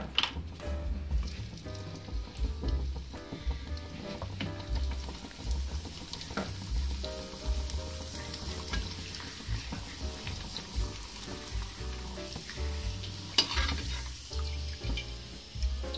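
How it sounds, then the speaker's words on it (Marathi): Steady, crackling sizzle of potato papad frying in hot oil in a wok, continuous and fairly close, with occasional light clinks and stirring noises. "आता आपण बटाट्याचे पापड तळूया."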